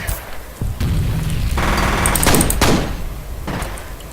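Grenade blast in the shooter game F.E.A.R.: a heavy, booming explosion erupts with a harsh burst and rumbling tail, followed by further crashing debris noise, loud and near.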